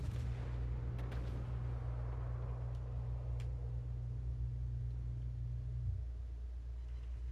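Heavy battleship guns firing blind in the naval game World of Warships Legends, a deep booming salvo with a few sharp cracks over a constant low engine rumble that eases slightly near the end.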